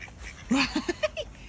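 Ducks quack near a pond edge in a short run of loud, nasal calls, about five bursts in quick succession over faint background noise.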